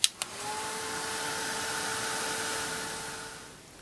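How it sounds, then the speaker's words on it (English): A heat tool blows on a painted jar to dry acrylic paint, a loud steady hair-dryer-like whoosh with a sustained whine that starts after two sharp clicks and fades at the end. "then just use a heat tool just to dry that off and to speed up the process"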